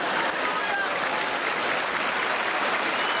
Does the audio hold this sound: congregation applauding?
yes